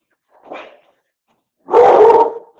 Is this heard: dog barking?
yes